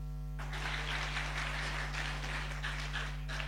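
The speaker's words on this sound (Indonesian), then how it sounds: "Tepuk tangan, tepuk tangan." After a brief pause, a gathered crowd at an Islamic boarding-school talk breaks into dense, steady applause, fairly soft and distant over a constant electrical hum.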